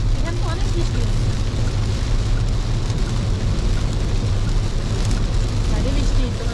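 Heavy rain pours steadily outdoors on a rainy-day outing, a dense, constant wash of noise with a low rumble that suggests passing traffic.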